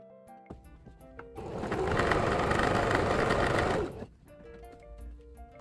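A sewing machine stitches the sides of a Christmas stocking in one continuous whirring run of about two and a half seconds, loud and close, with faint background tones before and after.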